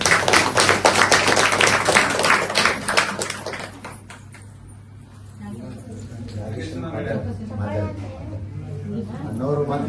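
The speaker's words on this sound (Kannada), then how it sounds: "ಎಲ್ಲರೂ ಚಪ್ಪಾಳೆ ಹಾಕಿ." An audience at a Brahma Kumaris visit program in Vijayapura claps loudly together for about four seconds, then the clapping gives way to a person talking over a steady background hum.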